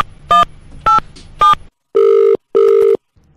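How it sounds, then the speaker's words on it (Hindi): Three short bursts of touch-tone dialing beeps are followed by two long, loud telephone ringback tones with a pause between them, placed for a radio prank call. "डायल करो"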